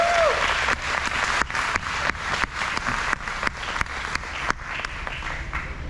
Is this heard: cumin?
no